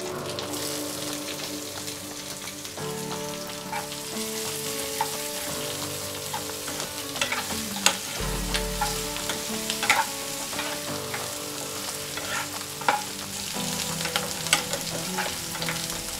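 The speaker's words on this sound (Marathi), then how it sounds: "ही तेलात छान अशी जरा परतून घेऊया" Steady sizzling of onion frying in hot oil, with occasional stirring clinks and scrapes throughout, close by and moderately loud.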